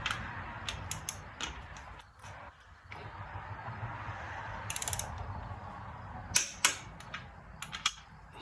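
Torque wrench tightening bolts during assembly of a 1975 Triumph TR6 engine, giving soft ratcheting clicks and a few sharp metallic clacks near the end, close but fairly quiet over a low room hum.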